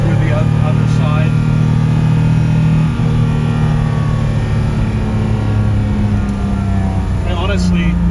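A 1955 Mercedes-Benz 300SL Gullwing taking a corner under power, its engine a loud, steady low drone inside the cabin, with brief rising revs early and late and a voice talking over it.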